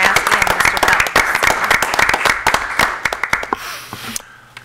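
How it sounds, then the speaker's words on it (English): Board of Education meeting attendees applaud two retiring staff members, with loud, fairly close clapping from a modest group that thins out and tapers off near the end, leaving a few scattered claps. "Round of applause for Ms. Muraski and Mr. Phelps."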